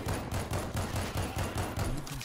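Rapid automatic gunfire in the shooter game World War Z, a loud, continuous burst of evenly spaced shots that runs the whole time.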